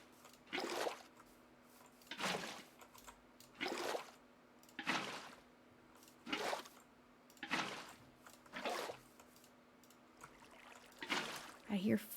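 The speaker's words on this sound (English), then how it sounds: "I hear flowing water." Flowing water from a Minecraft game world, heard as a soft, steady trickle beneath a speaker's voice, which comes in repeated bursts.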